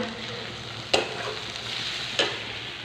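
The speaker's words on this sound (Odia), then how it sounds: "ଆଉ ଏଠି ମସଲା କଷା ଚାଲିଛି" Spice masala for an Odia chicken curry being stir-fried in a pan: a steady frying sizzle with two sharp scraping strokes of a spoon against the pan, no voices.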